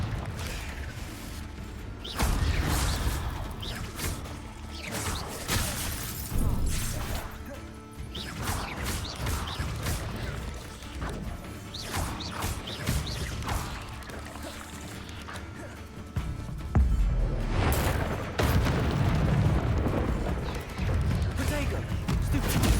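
Spell combat in Hogwarts Legacy brings a Confringo blasting curse and other magic: repeated sharp explosive crashes and whooshing impacts burst out loud and irregularly, with a heavier blast near the end, while a voice speaks over the action.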